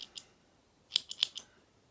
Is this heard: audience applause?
no